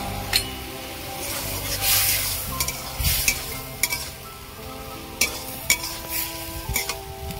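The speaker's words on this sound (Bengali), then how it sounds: "ভালো করে এইভাবে কষিয়ে নেব।" Chopped tomato with chili, cumin and coriander powders is stirred and fried in a pan for a koi fish curry with eggplant, a steady sizzle broken by sharp scrapes and clinks of the spatula against the pan.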